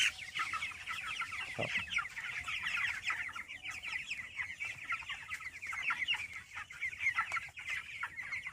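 A flock of 25-day-old broiler chickens clucks and chirps continuously at close range, many overlapping soft calls forming a busy, steady chatter.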